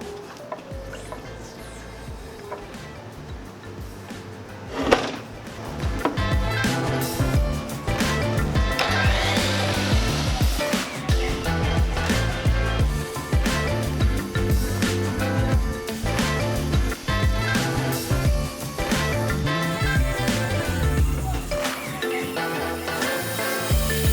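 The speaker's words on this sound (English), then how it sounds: "In order to cut a 3-foot, 36-inch porcelain plank, rip it, you need to raise the motor, activate the plunge option" A Delta Cruzer 10-inch wet tile saw plunge-cuts and rips a 36-inch porcelain plank, its motor spinning up with a thump and then grinding steadily and loudly through the tile, with fluctuating scraping and rubbing tones throughout.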